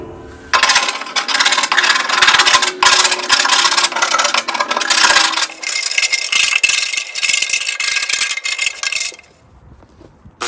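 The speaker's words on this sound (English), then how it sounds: "I got 80 grit sandpaper here, just going to feather edge the paint." 80-grit sandpaper feathers the paint edges on the mower deck of a John Deere D120 lawn tractor. A loud, close, continuous harsh rasping scrape runs for about nine seconds with a steady back-and-forth texture, then stops.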